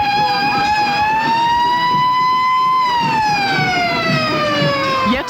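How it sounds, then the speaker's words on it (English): A Shriners' 1927 fire engine rolls through the Sycamore, Illinois Pumpkin Festival parade with its siren wailing loud and close, one long tone rising, holding, then sliding down over about five seconds above a rumbling street background. "Yet another fire engine coming up the street here, but it belongs to the Shriners"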